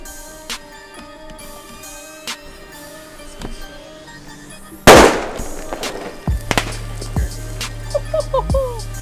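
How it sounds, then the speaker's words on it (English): A large lump of sodium metal bursts in water with one sudden, loud blast, followed by crackling and scattered pops as it keeps reacting. "ignites that hydrogen gas, and that is what creates that explosion"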